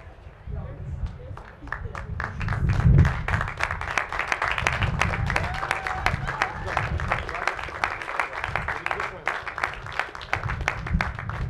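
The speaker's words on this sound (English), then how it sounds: "Let's give the parents a round of applause." A crowd claps through a university commencement ceremony, the applause continuous and moderately loud, with talk and crowd murmur running underneath.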